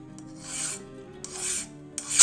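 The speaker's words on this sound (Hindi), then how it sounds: "अब मैं जब इस चिमटे को ऐसे घिसूंगा ना यूँ करके" Metal file rasping the seat of a pair of tongs in two slow, gritty strokes, close and loud, followed by a sharp scrape at the end, with no voices.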